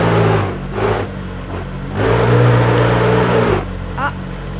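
Engine of a Golf 7R stage 3 drift car in BeamNG.drive revving in surges, rising and falling over a few seconds, loud and close with a person talking over it.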